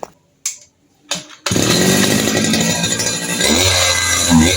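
A small TD40 two-stroke engine, fresh from a piston ring replacement, gives a few short pull-start attempts, then fires and runs loud and close with a steady buzzing drone that rises slightly near the end.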